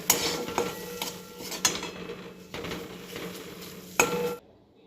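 A spoon stirs a mashed vegetable bhorta frying in a pan over lowered gas heat, giving close scraping strokes with soft sizzling underneath, several sharper clinks against the pan, then the sound cuts off near the end.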